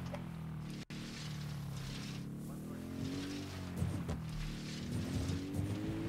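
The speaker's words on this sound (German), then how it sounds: "ich nehme auch ein Motorrad" A motorcycle engine in Ghost Recon Wildlands drones steadily close up, its pitch rising and falling slightly as it rides on, with a brief dropout near the start.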